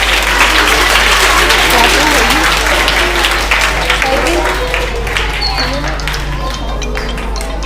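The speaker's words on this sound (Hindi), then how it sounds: "ताली तो करो। क्लैपिंग नहीं करोगे बच्चों?" Schoolchildren clapping at a school debate program, a loud, dense round of applause from a crowd that slowly eases off, with voices talking over it.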